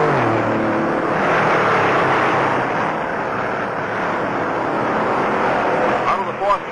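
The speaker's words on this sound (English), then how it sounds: "Down the backstretch, 68 cars play follow the leader at 150 miles an hour." NASCAR stock cars racing at about 150 mph, a loud sustained engine roar from a pack of cars that holds steady and swells near the end.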